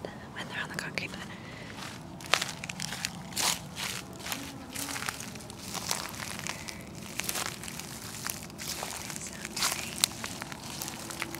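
Crunchy dry fall leaves crushed and crinkled by hand in a backyard, a steady close crackling texture under a soft whispering voice.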